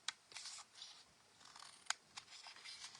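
Scissors snipping small tabs off a box, a few quiet, crisp cuts spaced irregularly, close by and alone.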